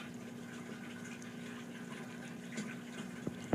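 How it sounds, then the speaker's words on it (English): A siphon drains water from a 55-gallon aquaponics barrel, giving a steady low gurgling flow with a faint hum beneath and a few sharp knocks near the end. "It'll start draining the water out."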